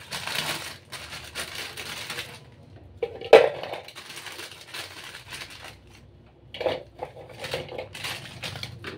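Biscuits pour into a tin container in uneven clattering, rattling bursts with a sharp metallic knock and pauses between pours, close and moderately loud, no talk.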